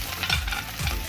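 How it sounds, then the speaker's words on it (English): Green chilies and sliced onion sizzling in a pan while being stirred, with a steady hiss and two brief scraping strokes of the spoon, close and moderately loud. "now add green chilies and the onion, sliced onion,"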